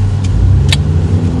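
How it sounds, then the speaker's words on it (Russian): Car engine running steadily after being started, a loud close mid-range hum with a few faint clicks, no voices. "Запустили машинку."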